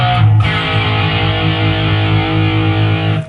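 A distorted electric guitar plays the pre-chorus of a song, sliding from one sustained chord up to the next and ringing out thick and loud for a few seconds with no talking.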